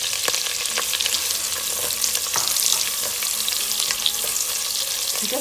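Chopped onion fries in a pan with whole peppercorns for moong khichdi, giving a steady, close sizzle with a few light clicks throughout.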